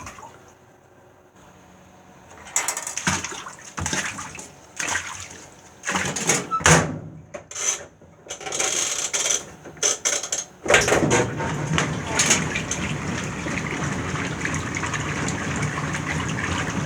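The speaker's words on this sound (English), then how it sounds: "And now we're going to rinse them out in the washer." Washing machine filling with water for a rinse of freshly ice-dyed fabric: a steady gushing inflow that swells from quiet into a continuous rushing wash, with mechanical clunks and splashes along the way.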